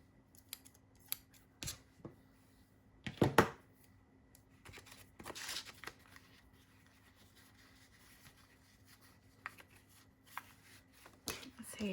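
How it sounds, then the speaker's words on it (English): Scissors roughly cutting fabric along the selvage edge for a grungy pocket: scattered crisp snips and rustling fabric, with a few louder bursts of cutting, fairly close and quiet, with faint talk in the background. "I'm just going to cut it on the selvage edge"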